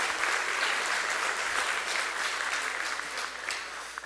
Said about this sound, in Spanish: lo primero que quiero es un aplauso para Olga y Raimundo.